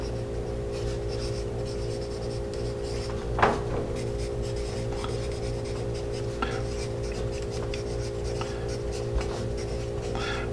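Steady scratchy graphite strokes from a Home Depot carpenter's pencil writing on a surface, close-up, with small taps and rubs over a constant low hum and no speech.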